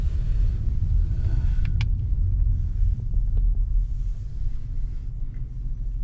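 An LPG-fuelled Hyundai Grandeur HG car driving, a steady low road rumble and engine drone from inside the cabin with a few faint clicks, no talking.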